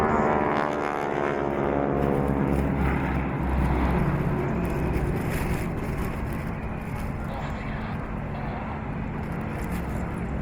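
Wing-walking biplane flying past at Sunderland Airshow, a loud, steady engine drone with wind buffeting that holds throughout.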